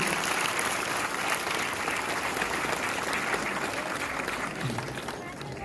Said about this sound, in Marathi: सर्वांनी एकदा जोरदार टाळ्या मारायची आहे